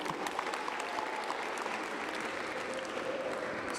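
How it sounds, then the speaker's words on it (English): A crowd at a girls' athletic recruitment event applauds with a dense, continuous patter of many hands clapping at once, moderately distant and steady throughout. "So I'm going to applaud you for that."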